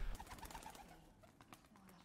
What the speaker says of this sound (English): Oh no, it was a pigeon.